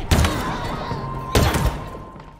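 A weapon firing in the video game Halo Infinite: two heavy, punchy shots about a second and a quarter apart, each with a booming low thud and ringing tail, close and loud over faint game ambience.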